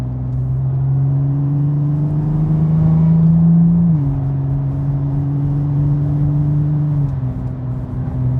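A BMW 850 engine with a turbo pulls hard under full acceleration. It makes a loud, steady, close drone whose pitch climbs, then drops sharply at two gear shifts before rising again.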